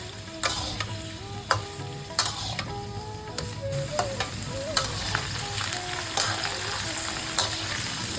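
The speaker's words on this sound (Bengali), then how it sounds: "আমরা পছন্দসই কেটে রাখা সবজি দিয়ে দিচ্ছি।" Cut carrots, baby corn, capsicum, beans and steamed cauliflower frying in oil, with a continuous sizzle and sharp, regular spatula clacks against the pan as they are stirred, close and clear.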